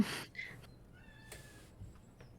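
A young cat at home gives a short, sharp meow up close, followed by faint high squeaks and quiet room noise.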